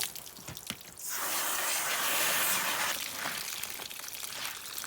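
Water sprays and splashes steadily onto tie-dyed fabric to rinse out the dye, a loud hissing stream after a second of drips and trickles, tapering slightly toward the end.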